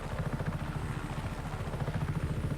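Helicopter flying in the Just Cause 3 video game, a steady rapid rotor thump with engine drone, moderately loud and continuous throughout.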